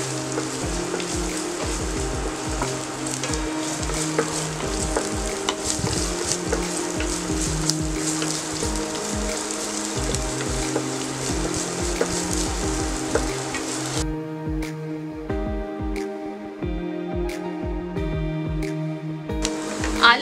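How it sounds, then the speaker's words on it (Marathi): Garlic and ginger sautéing in hot oil in a pan, a steady close sizzle with frequent sharp clinks and scrapes of a spoon stirring throughout, no talking. "लसूण, हे आता चांगलं परतवून घेऊया।"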